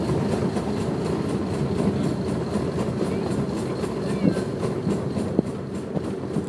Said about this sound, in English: Oh, it's Choo-Choo.